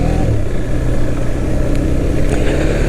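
A motorcycle slowing under engine braking, a steady close engine drone with low harmonic rumble that holds fairly even throughout, no talking over it.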